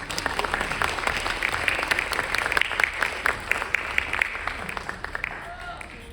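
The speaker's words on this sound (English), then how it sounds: "Please clap." An audience applauds at a high school stage comedy, a dense, steady wash of many hands clapping at medium distance that slowly fades toward the end, with a voice talking briefly over it.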